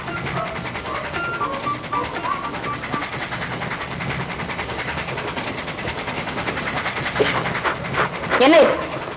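A train rolls close past a nursing home built beside a railway line, a steady clattering rumble throughout with a brief whistle-like squeal near the end, while voices talk over it.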